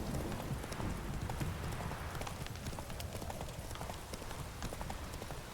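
Roach the horse gallops in The Witcher 3: Wild Hunt, with steady rhythmic clip-clop hoofbeats running throughout over a layer of game ambience and music.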